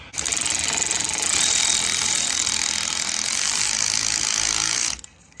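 A ratchet tightening the engine leash bolt on a 2010-2016 Genesis Coupe 3.8, heard as a rapid, continuous, loud clicking close to the microphone for about five seconds before it stops.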